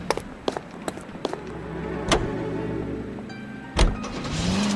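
A car in the video game L.A. Noire starts up and pulls away, with several sharp clicks and a thump, then a steady low engine hum that swells toward the end.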